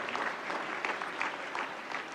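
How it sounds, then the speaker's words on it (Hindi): An audience at the 69th National Film Awards ceremony in Vigyan Bhavan, New Delhi, claps in a brisk, steady burst as a winner comes onstage to receive the Silver Lotus. "श्री अंकित कोठारी मंच पर रजत कमल ग्रहण करने के लिए पधारते हुए जोरदार तालियों से स्वागत करिए।"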